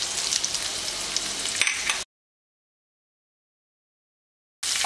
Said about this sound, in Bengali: এবারে আরো একটু ভেজে নিচ্ছি।